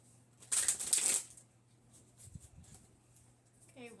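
Stiff tarot cards being shuffled in a quick, crisp burst of riffling and flicking, close and moderately loud, then fading to a quieter rustle with faint handling noises.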